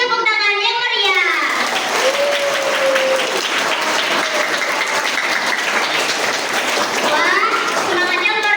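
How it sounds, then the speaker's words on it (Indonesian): Enthusiastic applause from a school audience at a student council (OSIS) candidate event, loud sustained clapping with children's cheers and shouts mixed in, bracketed by voices at the start and end. "Beri tepuk tangan yang meriah."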